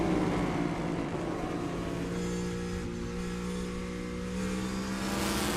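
A NASCAR Cup car at Watkins Glen, heard from onboard, holds a loud continuous engine drone with shifting pitch as it revs through downshifts.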